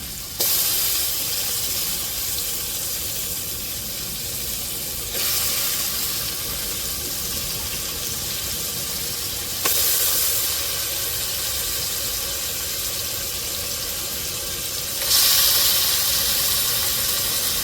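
Cut tuna pieces added to a pan of sautéed ginger, garlic and green chilli, producing a loud, sustained hissing sizzle that swells in a few surges as the fish is stirred.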